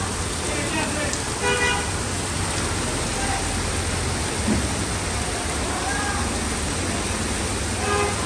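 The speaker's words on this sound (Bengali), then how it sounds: "অনেক বৃষ্টি হচ্ছে," Heavy rain in Bogura, Bangladesh hisses steadily throughout while car horns toot a few times in the distance and traffic rumbles faintly underneath.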